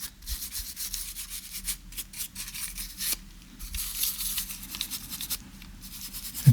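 Dust is wiped off the lens assembly of an opened Panasonic LUMIX TZ10 camera with the casing off, making soft, close, intermittent rubbing strokes, faint and irregular, with no speech.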